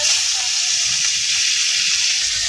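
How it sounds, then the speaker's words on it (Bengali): Dried fish and onion frying in oil for a mashed bhorta, a dense steady hiss and sizzle close up with faint low rumble beneath, no talk. "তো পেঁয়াজ শুটকিটা তেলে ভাজা নিতেছে"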